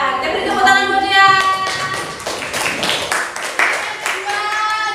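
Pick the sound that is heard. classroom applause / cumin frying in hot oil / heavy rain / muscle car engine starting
classroom applause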